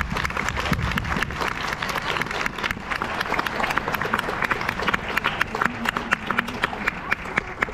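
Lecture audience applauding at the close of an astronomy talk, a dense, steady wash of many hands clapping that fills the room throughout.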